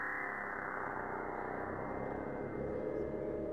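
A spacey electronic synth tone generated by live-coded text sustains in a soft, steady drone with layered harmonics and slowly shifting texture, faint and alone.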